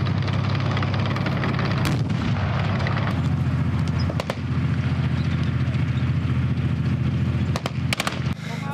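Booming blasts and gunfire roll through a military combat-training obstacle course, a dense, loud, continuous barrage with sharper cracks standing out near the start and end.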